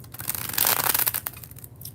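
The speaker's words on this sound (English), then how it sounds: "when I do a bridge shuffle, as I'm about to do" Tarot card deck riffled in a bridge shuffle, a dense papery rustling flutter that swells mid-way and trails off into a few light taps, close and fairly quiet with no talk.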